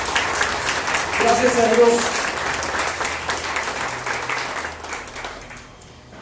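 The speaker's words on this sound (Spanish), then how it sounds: "Dale un aplauso al Dios maravilloso que tenemos." A church congregation breaks into applause during a worship service, clapping loudly at first and then tapering off gradually, while a preacher speaks over the clapping.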